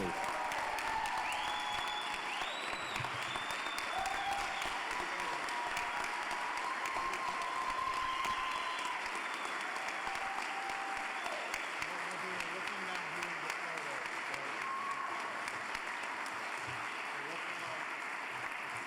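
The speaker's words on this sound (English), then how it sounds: "Let's have a huge round of applause for the class of 2022." Sustained audience applause fills a hall of fame induction ceremony, dense steady clapping from a large crowd holding at even volume throughout, with a few cheers and voices mixed in.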